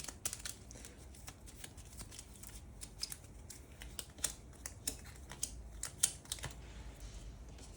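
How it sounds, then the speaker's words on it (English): Conflict cards for the Dune Imperium board game are shuffled and placed on a table, a series of quiet, close riffling and tapping sounds in uneven bursts. "We shuffle them, place 5 down."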